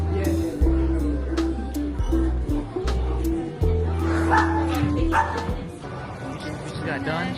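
Several dogs at a dog cafe in Japan bark repeatedly, with sharp yips and some whimpering, loud and close throughout, while people talk in the background.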